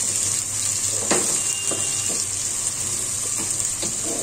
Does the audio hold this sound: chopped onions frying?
yes